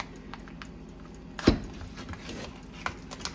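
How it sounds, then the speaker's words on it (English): A knife cutting bacon on a board, a single clear chop thud near the middle with a few faint lighter taps around it, close and quiet, no talking. "let us cut up some bacon"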